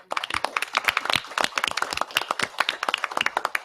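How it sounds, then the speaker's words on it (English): A round of clapping at a commission meeting honoring an attendee for his work, a dense patter of many hands from a modest indoor audience, steady and fairly close throughout. "let us give you a round of applause for all your work"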